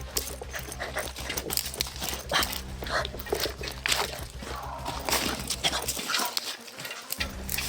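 A dog panting and whimpering close by, its breathy sounds running steadily under a constant low background hum, which briefly cuts out near the end.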